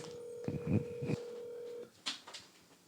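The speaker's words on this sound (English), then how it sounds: "get my guest on the phone today" Telephone dialing tones placing a call to a podcast guest: a steady tone holds while a few short keypad beeps sound, then it cuts off, with faint room noise and a brief sound after.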